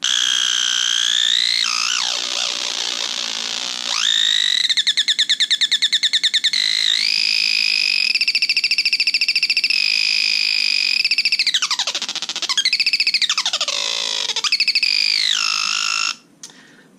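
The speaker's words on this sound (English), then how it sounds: "This oscillates at a much lower rate, and it sort of serves as a gate to let through the sound of the first oscillator." A circuit-bent hex Schmitt trigger oscillator with a slow low-frequency oscillator gating a second, higher oscillator, giving loud electronic chirps and sweeping warbling tones that rise and fall, stutter in rapid pulses, then cut off abruptly near the end.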